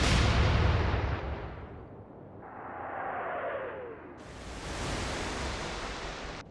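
A naval gun firing high-explosive shells in Atlantic Fleet: a heavy, broad boom that decays over about two seconds, a descending whistle of a shell in flight, then a second loud noisy blast.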